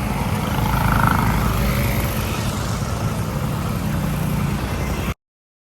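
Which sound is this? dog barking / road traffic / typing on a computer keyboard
road traffic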